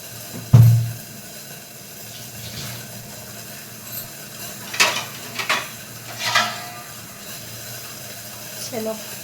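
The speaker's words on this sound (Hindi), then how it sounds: "चलो मैंने ले ली स्टील की बर्तन, अब इसमें मैं इसको रख लूँगी।" A steel cooking pot and utensils clatter in a home kitchen: one heavy thud at the start, then scattered metallic clinks and scrapes, with a voice speaking at times.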